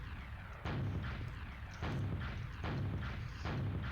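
Rockets fired repeatedly in a video game, heavy booming blasts recurring every second or so over a constant dense rumble, loud and close.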